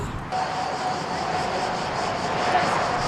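A firefighting aircraft passes over a forest fire in southeastern France, its engine giving a steady, loud drone with a faint whine that continues throughout, with no voices.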